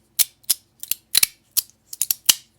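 Quick dry clicking slides of a metal JuzhEDC Armor fidget slider with its tuning forks removed, about ten crisp snaps in uneven pairs and singles, close and fairly loud with no ringing tone.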